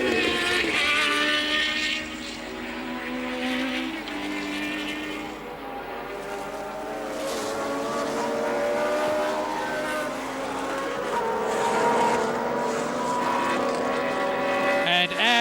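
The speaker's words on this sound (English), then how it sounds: "Reutemann on his way in third position in the Williams" A 1981 Williams Formula One car racing at the Argentine Grand Prix, its engine loud and close, holding a continuous high-revving howl whose pitch climbs and falls through gear changes for the whole stretch.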